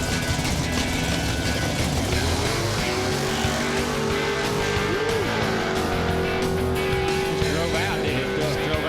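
A drag racing car makes a pass down the strip with a loud, sustained engine roar and a rising tone partway through, while voices talk faintly underneath.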